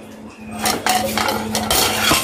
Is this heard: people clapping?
no